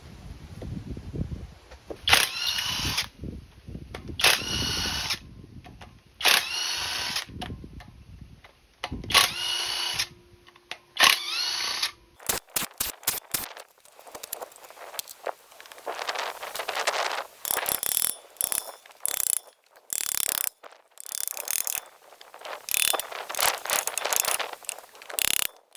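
A power drill or impact tool works on an engine's sump bolts in repeated short bursts, close and loud, with ratcheting rattles and quieter gaps between runs.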